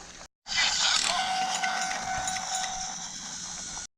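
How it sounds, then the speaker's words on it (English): A Tomy Plarail crossing rail sounds off as a toy train rolls over it: a loud, bright electronic crossing-gate tone starting abruptly after a brief silence, held steadily with a sustained whistle-like pitch. "It basically makes a crossing gate sound."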